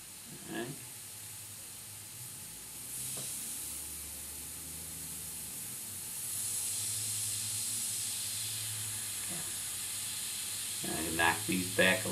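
An airbrush releases a steady, soft hiss of spray onto a hummingbird painting, continuous and close, with a few light clicks and a voice speaking faintly at the start and end.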